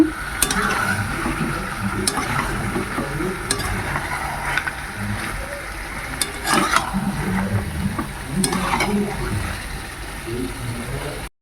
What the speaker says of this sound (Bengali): এবার চিকেন কষা হচ্ছে চিকেনটা খুব ভালো করে কষে নেব